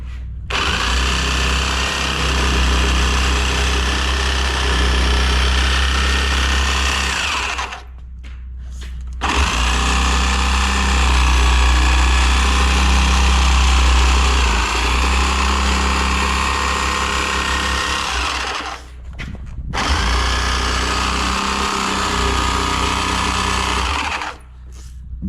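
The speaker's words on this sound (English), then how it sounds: "hold pressure down on the reciprocating saw, letting the blade do the cutting work" A reciprocating saw cuts through a tire for a tire tank, its blade buzzing loudly and steadily in three long runs separated by brief pauses, close and with no talk.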